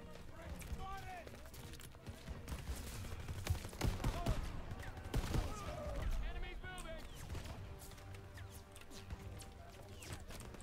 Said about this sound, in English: I'm still getting shot